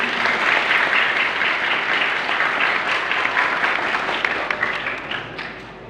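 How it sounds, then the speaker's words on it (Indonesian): A graduation audience in a Bondowoso auditorium breaks into dense, sustained applause for the Ummi Quran-reading method, loud and steady for several seconds before easing off slightly at the end. "Mari kita aplaus, tepuk tangan untuk metode ummi."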